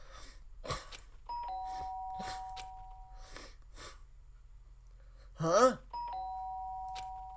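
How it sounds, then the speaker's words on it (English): A doorbell rings twice in the Danganronpa video game, a sustained electronic two-tone chime sounding between short vocal sounds and a brief exclamation, with a low steady background hum. "The sharp sound of the doorbell pierced my sleepy haze and pulled me back to the real world."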